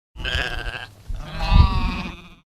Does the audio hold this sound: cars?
no